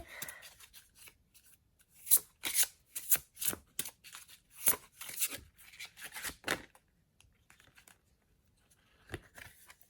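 Oracle cards shuffled by hand before one is drawn, a close series of crisp riffling and sliding bursts clustered in the first two thirds, then a quieter pause and a last brief flick.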